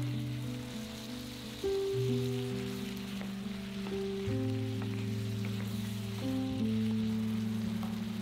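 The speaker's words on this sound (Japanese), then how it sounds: "トマトの水分が一気に出てくるので、飛ばすように炒めてください。" Chicken breast stir-fries with tomatoes in a pan, a steady, rain-like sizzle running under soft background music.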